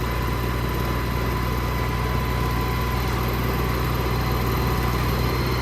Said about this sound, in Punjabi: ਹੁਣ ਇਹ ਲਾਇਆ ਗੇਰਾਂ 'ਚ ਇੰਜਣ ਤੇ ਲੋਡ ਨਹੀਂ ਹੈਗਾ